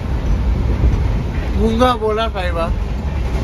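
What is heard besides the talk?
moving train heard from inside, Netravati train to Kerala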